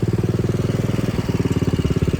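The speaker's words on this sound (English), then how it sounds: "Up the gravel hill. Just first gear idling." A John Deere tractor engine idles in first gear while climbing a gravel hill. It chugs loud, close and steady, with rapid even pulses throughout.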